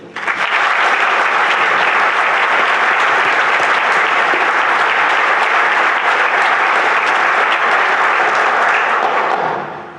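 An audience at an entrepreneurship interview event applauds to welcome a guest speaker, with sustained, loud, even clapping from many hands that fades at the end.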